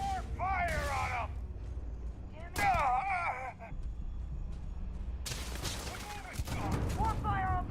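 Gunfire in the video game Starfield: bursts of shots and impacts in two main clusters, loud and close, mixed with game voices and talk from players.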